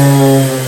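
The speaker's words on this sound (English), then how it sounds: "that noise you heard when the motor slowed down is actually the motor struggling to accommodate that extra" An orbital sander motor hums loudly and steadily up close, its pitch sagging slightly as pressure bogs it down.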